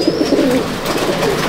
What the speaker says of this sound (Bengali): এই যে ইকবালদার ঘরে আরেক জোড়া পায়রা, এটাও ইকবালদার ঘরে।